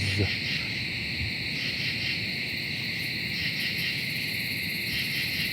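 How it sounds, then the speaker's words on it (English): A northern bush katydid calls as a steady, high, shimmering buzz that runs unbroken through the whole stretch, with faint pulsing inside it. No voices are heard. "Maybe that's a northern bush katydid."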